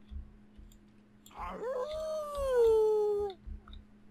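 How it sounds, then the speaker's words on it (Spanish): A werewolf in The Sims 4 lets out a single long rising howl that holds steady and fades after about two seconds, loud and close, with light game sounds around it. "Aullar en otro sitio."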